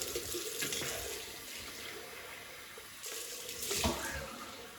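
Water runs from a tap into a sink with a steady rushing splash, close by, with a few louder surges and clinks partway through.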